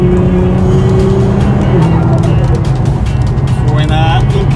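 A tuned Nissan GT-R making over 1000 hp roars loudly from the cabin, its engine note steady and powerful with turbo whistles rising toward the end, and a person talks over it.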